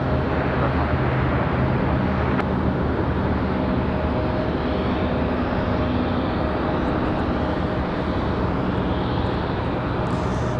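A JetBlue or United Express airliner arriving from Newark at Raleigh-Durham International Airport, heard as a steady broad engine roar that stays loud and constant throughout, with no voices over it.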